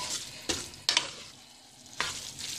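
Chow mein noodles and vegetables stir-frying in a pan, a steady soft sizzle broken by several sharp scraping stirs of the utensil, close and without talk.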